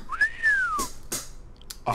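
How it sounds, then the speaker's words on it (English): A character in the King's Quest VI video game whistles a single slurred note that rises and then falls, followed by a few short noisy bursts from the game. "He whistles like this."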